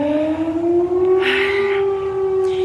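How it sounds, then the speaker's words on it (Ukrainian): A civil defense siren sounds the air-raid all-clear with a loud, steady wailing tone that holds throughout, alone with no talk. "Відбій повітряної тривоги."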